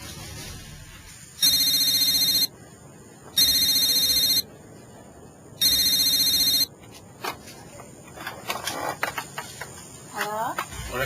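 Telephone bell ringing in three evenly spaced, loud electronic bursts, each about a second long, followed by people talking.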